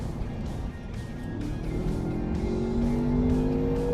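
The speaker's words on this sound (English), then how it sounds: "when we really lay into the throttle, we can hear a little bit of the engine." A V8 engine in a 2025 Land Rover Defender 110 OCTA SUV climbs in pitch as it accelerates hard, a steady rising drone heard from inside or near the vehicle, with no talking.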